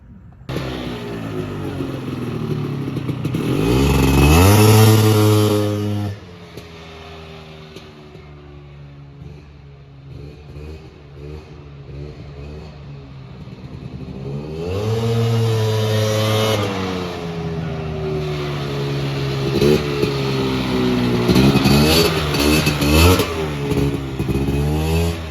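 A 1990s two-stroke vehicle accelerates hard on a test drive, its engine revving loudly in two long rising pulls with a drop-off between them, close and continuous with no talking.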